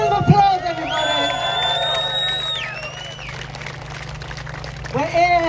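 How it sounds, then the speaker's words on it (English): A street protest crowd in London cheers loudly, with high whoops and whistles rising over a continuous roar before easing off, then swelling again at the end. "Big round of applause, everybody."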